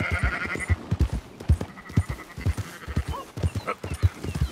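Sheep bleat repeatedly in short, quavering calls over a rhythmic patter of footsteps, with faint background ambience, in the video game Red Dead Redemption 2.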